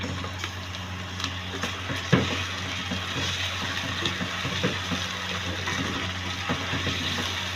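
Meat sizzles as it hits half-cooked frying onions, a steady close hiss with scattered crackles and pops over a low hum.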